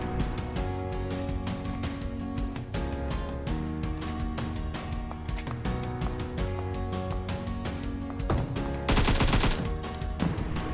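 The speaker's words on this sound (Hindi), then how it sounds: "ऊपर से कोई शॉटगन मार रहा होता है सामने लाल वाले घर से" Rapid gunfire and shotgun blasts crackle in a PUBG Mobile match in Rozhok, dense bursts of sharp shots repeating almost without pause, with a louder close volley near the end.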